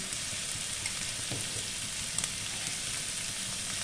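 Onions fry in oil in a pan for a kachki fish chochchori, a steady, close hiss of sizzling with faint crackles and no voices.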